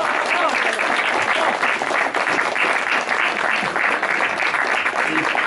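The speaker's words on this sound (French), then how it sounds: "Vous pouvez applaudir" An audience at an evening dinner in a hotel breaks into dense, steady applause that fills the room from start to finish, with a voice faintly audible over the clapping.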